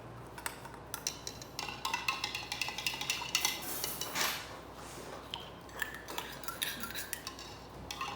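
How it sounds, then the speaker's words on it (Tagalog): Fifty cc of yogurt goes into a green-tea fruit tea base, with dense, rapid clinks and taps of cups and utensils throughout, close and fairly bright, and no voices. "Ilalagay po natin yung 50cc ng yogurt."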